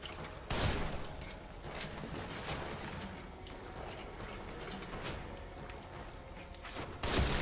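Gunfire in The Evil Within, a few sharp, close shots, one near the start and one near the end, separated by a steady rumble of game ambience.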